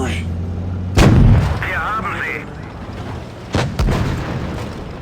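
Tank cannon fire in World of Tanks booms twice, once loudly at about one second and again near three and a half seconds, with game effects in between and a voice talking over the action.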